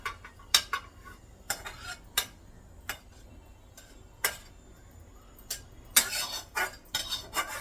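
Cooked moong dal being moved into a steel vessel, heard as sparse sharp metallic clinks and scrapes of a spoon on steel over a quiet background, with a denser cluster of clatter near the end.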